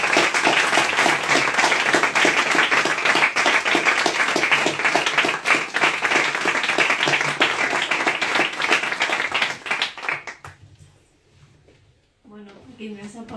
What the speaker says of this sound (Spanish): pediros que aplaudamos a Ángela Segovia como se merece